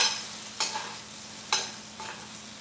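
Vegetables for a beef burrito bowl being stirred in a hot pan, a steady faint sizzle broken by three short scraping stirs, close and with no talking.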